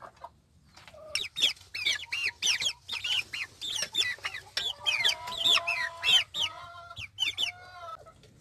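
Hens clucking in a rapid series of short, rising calls, close and fairly loud, with steadier drawn-out notes toward the end and no talking.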